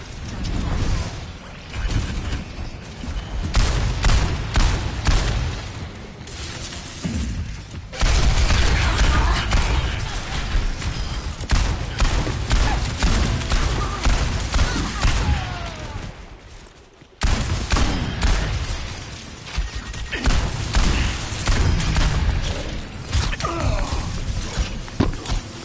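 Overwatch 2 gameplay is filled with dense gunfire and explosions, a loud and nearly unbroken barrage of shots, crashes and mechanical clatter. It runs for about twenty-five seconds with only brief dips.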